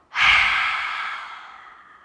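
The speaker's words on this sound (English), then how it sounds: "Take a deep breath in. Fill it until you can't fill it anymore. And breathe out." A single long, loud breath out during a kids' yoga session, a breathy whoosh that starts abruptly and slowly fades over about two seconds, heard close up with no talk.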